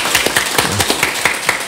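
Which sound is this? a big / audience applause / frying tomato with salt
audience applause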